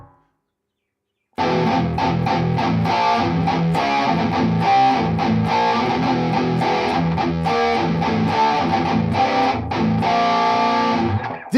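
An electric guitar played through an effects pedal into an IR loader, dry with no reverb, comes in after a short silence as a loud, distorted, rhythmic riff of chopped chords that runs to the end.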